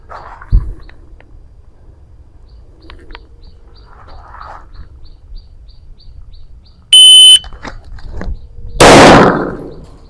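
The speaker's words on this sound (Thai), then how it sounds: "อันนี้ผมจะลองยิงนัดเดียวที่กลางลำตัวก่อนนะครับ" A single pistol shot rings out at shooting practice, one loud sharp crack, with a shot timer beep just before it and quiet range ambience around it.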